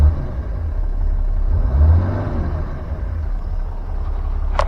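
A 2015 Ram 3500 with a 6.7L diesel engine is revved briefly in a steady, close, loud diesel rumble, swelling around the middle and then settling back to a fast idle, with no talk over it.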